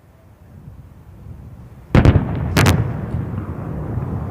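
Indian artillery guns fire two sharp, loud blasts about half a second apart, each leaving a rumbling tail over low background noise.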